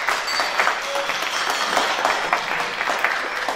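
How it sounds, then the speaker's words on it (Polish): Audience applause at a carolling groups' festival in Miechów, following a folk song and dance ensemble; a steady, dense clapping from a sizable crowd, fairly close, lasting throughout without any talk. "Brawa, brawa."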